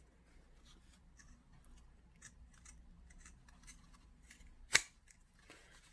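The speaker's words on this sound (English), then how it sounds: "I'm just going to just cut the curved piece here and here with my pinking shears." Pinking shears cutting a curved piece of fabric for a flat cap, a series of soft, crisp snips close by and quiet, ending in one sharper clack of the blades.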